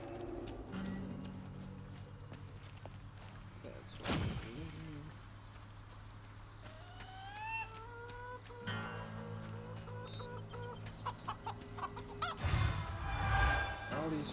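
Chickens cluck and a rooster calls in the video game South of Midnight, scattered calls over a steady game soundtrack with occasional louder effects, no speech.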